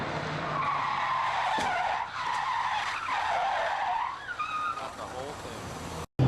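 1550 whp Shelby F150 pickup truck sliding with stability control, ABS and traction control off, its tires squealing in long repeated wails over a roaring engine, with a short pause before the sound cuts out.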